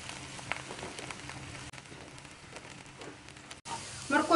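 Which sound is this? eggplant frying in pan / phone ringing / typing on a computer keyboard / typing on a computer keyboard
eggplant frying in pan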